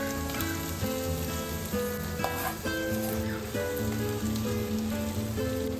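Spices sizzle and crackle in a hot pan, a continuous frying hiss with faint stirring sounds beneath.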